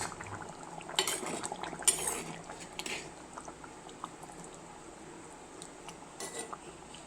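A spoon clinks and scrapes quietly against a pot of piloppi fish curry with coconut oil and curry leaves, a few louder knocks early on, then soft, sparse stirring.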